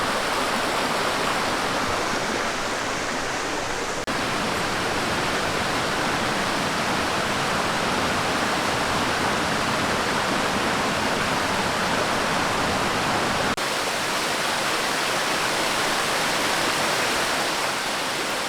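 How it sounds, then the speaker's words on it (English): Waterfall at Amicalola Falls in a Georgia state park, a steady broadband roar of falling water that fills the whole stretch at constant loudness with no voices over it. "Just about at a place where I can see the waterfall"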